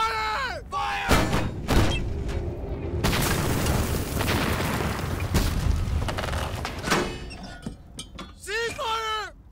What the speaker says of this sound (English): Fire all three cannons!